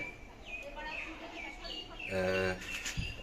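Silati pigeons, a young pair of the Dabwala Silati breed, give soft chirping and cooing calls at close range, with a louder burst of calls and voices near the end.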